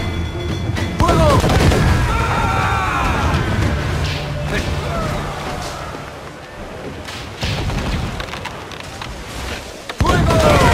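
Booming cannon shots go off in a naval battle in the video game Assassin's Creed IV, separated by gaps, with voices shouting in Spanish between them.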